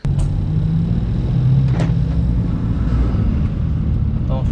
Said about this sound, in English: drive around so that we can get some boost sound clips